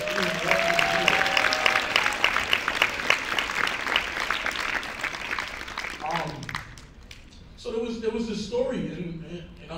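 Audience applauding at an event, sustained clapping for several seconds that thins out, followed by a speaker talking over a quieter room.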